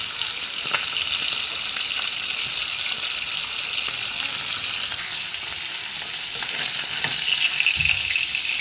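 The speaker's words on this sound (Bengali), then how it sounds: "মাছগুলা ভাজা হয়ে গেছে" Fish fry in hot oil with a loud, continuous sizzle and crackle that softens partway through, with a few clinks of stirring and no voices.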